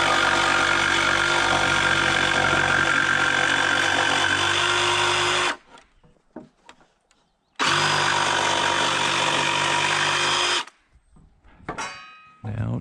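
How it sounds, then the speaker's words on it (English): A jigsaw cuts lumber for a gazebo build in two loud, close, buzzing bursts of about five and three seconds, separated by a short quiet pause with faint handling noises, then stops. "I can jigsaw this out first"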